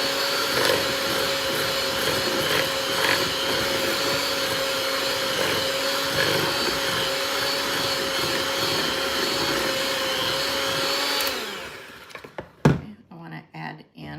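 An electric mixer whirs steadily while creaming ingredients for a chocolate chip cookie lasagna, then cuts off near the end, followed by a few bumps and thunks.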